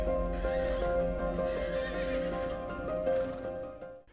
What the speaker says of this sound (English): Karabakh horses are considered as national symbols and are the ancient breed of horses in the Caucasus